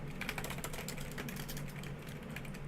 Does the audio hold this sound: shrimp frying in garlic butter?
no